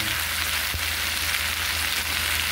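Tulingan fish frying in a hot pan, a dense continuous sizzle like steady rain, close and even throughout.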